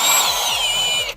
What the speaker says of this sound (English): the impact gun at the ready